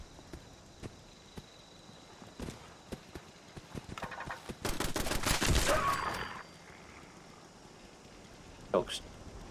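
Automated turret fire at a camp entrance in the video game Fallout 76, a dense rapid burst of gunshots peaking mid-clip, with scattered single shots before and after under faint background noise.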